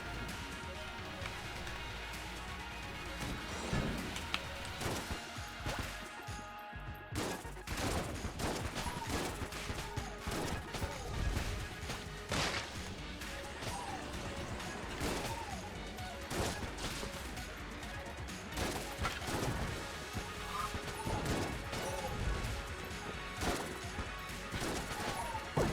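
Dense gunfire and bullet impacts from Enter the Gungeon, a rapid, continuous barrage of sharp cracks and smashes filling the whole stretch over a busy game soundtrack, with a brief lull near seven seconds.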